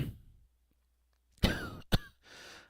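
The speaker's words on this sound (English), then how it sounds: "as I cough over here" A man coughs twice in quick succession on an aircraft radio frequency at Orlando, followed by a short breathy exhale, with near silence before.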